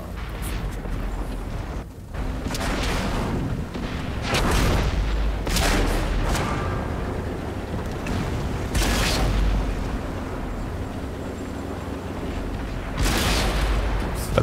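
Tank cannon blasts firing premium ammo in World of Tanks, several loud booming shots at irregular intervals over a constant heavy engine rumble.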